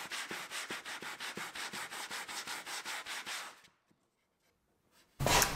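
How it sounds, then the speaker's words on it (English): Hand sanding a curved wooden cabinet piece: rhythmic back-and-forth rasping strokes, about a dozen evenly spaced passes close up, then the sanding stops into near silence before a sudden loud burst at the end. "There's a fair amount of hand sanding involved in the curved work"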